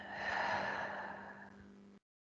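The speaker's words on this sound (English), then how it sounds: "I know I'm breathing in." A person takes one long, deep inhale through the nose during a mindful breathing exercise, close and soft, swelling then tapering over about two seconds before silence.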